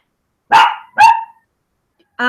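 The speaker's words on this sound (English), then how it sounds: "she barks at everything" A dog barks twice in quick succession, loud and close, during a lecture, followed after a pause by a brief burst of voice.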